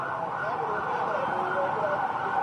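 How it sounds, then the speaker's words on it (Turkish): Continuous wailing sirens of ambulances and fire engines passing, fairly loud and sustained, with traffic noise underneath, in central Beirut after a bombing. "Ambulanslar geçmeye devam ediyor. İtfaiyeler geçmeye devam ediyor."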